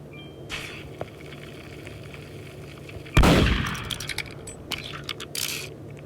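Video game gunfire: a single loud, close shot bursts out about midway, with sharp impact and debris clatter, then several rapid shots snap over the background noise of the game.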